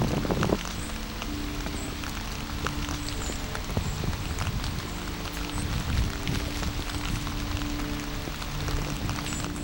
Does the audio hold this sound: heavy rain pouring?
yes